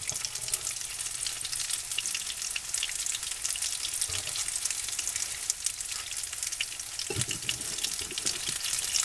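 A quesadilla filled with taco meat fries in a hot pan, giving a dense, continuous sizzle close by with faint clinks and a brief watery rush near the end, no talking.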